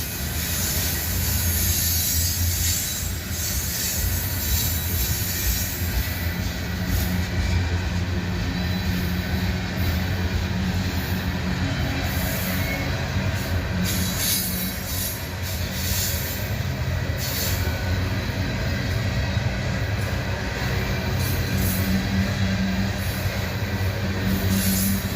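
A passing train in Abbeville rumbles steadily for the whole stretch, heavy low roar of railcars with faint intermittent high metallic squeal from wheels rubbing on the rails, heard from some distance.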